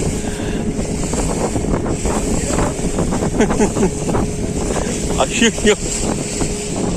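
A motorboat runs on the open sea off Pondicherry, its engine droning steadily beneath loud gusting wind buffeting the microphone, with waves slapping the hull and a short spoken exclamation from a passenger.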